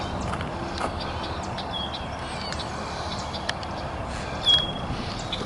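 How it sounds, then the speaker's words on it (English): Several songbirds chirp and call in a spring forest, with catbirds and yellow warblers among them. Scattered, fairly faint calls sit over a steady broadband background, with one brighter chirp near the end. "you can just hear the birds. All the birds singing away."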